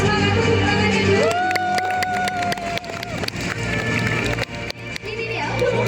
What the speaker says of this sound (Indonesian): boleh dong kasih semangat tepuk tangannya dulu